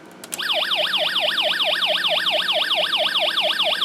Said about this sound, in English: now it will give us, I believe, the police siren effect